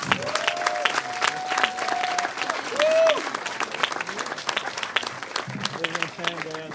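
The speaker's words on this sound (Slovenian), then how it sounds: "Dajmo lep aplavz." An audience claps steadily in a dense burst of applause, with a voice briefly speaking over it.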